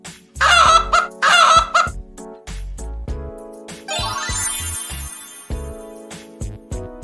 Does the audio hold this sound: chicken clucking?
yes